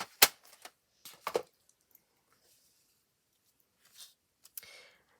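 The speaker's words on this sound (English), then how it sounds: "And then pop our watercolour pencils away." A few sparse clicks and clatters up close as watercolour pencils are dropped into a tin, separated by quiet pauses.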